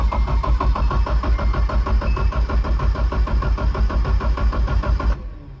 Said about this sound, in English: I'm just gonna crank it over a few times to get the oil through it.